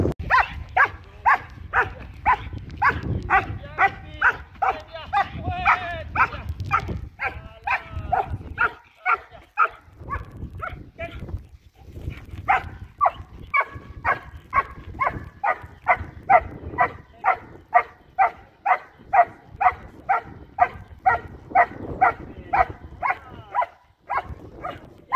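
A dog barks steadily during IGP protection training, giving a long run of loud, close, rhythmic barks with only brief pauses.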